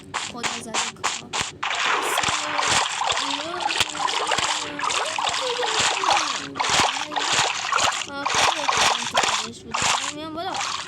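Water splashes and sloshes in Minecraft, played with a mod, as a character drops into water, with repeated short splatters under steady game noise and talking voices throughout.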